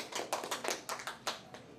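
Sparse hand claps from a small audience answering a host's question, a handful of separate sharp slaps in an uneven patter, fairly faint and close, no voices over them.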